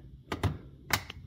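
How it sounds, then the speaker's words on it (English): Replacement thermistor clicking into place on an ice maker, three quick close plastic clicks snapping in over a quiet background. "You'll hear that click in."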